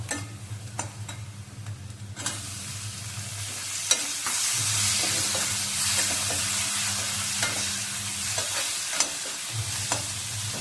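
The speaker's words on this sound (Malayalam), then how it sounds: "തക്കാളിയും കൂടി ഇട്ട് നന്നായിട്ട് മൂപ്പിച്ചെടുക്കാം" Tomato frying in a pan with chili powder and spices for paneer bhujia: a continuous soft sizzle broken by repeated spatula scrapes and taps, close and moderately quiet with no voices.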